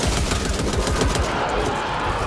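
Rapid automatic gunfire in the zombie shooter Back 4 Blood, a dense, continuous rattle of shots filling the short stretch at loud, close range without a break.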